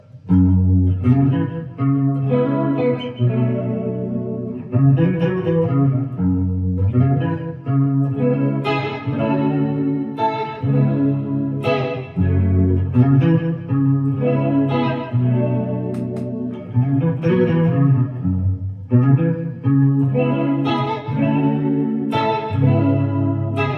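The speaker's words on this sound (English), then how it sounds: "I pick my guitar and I come up with this little riff right here" An electric guitar plays a repeating riff in a lilting triple feel, its chords washed in chorus and mild distortion, loud and steady throughout.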